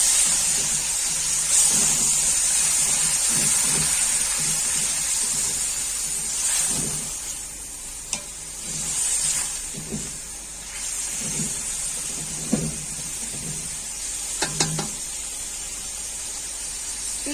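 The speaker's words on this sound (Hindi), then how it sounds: "कलेजी को मैं 3 से 4 मिनट के लिए फ्राई करूंगी।" Chicken liver (kaleji) frying in a pan, giving a steady broadband hiss with faint scattered crackles and occasional stirring knocks, fairly loud and continuous with no talking.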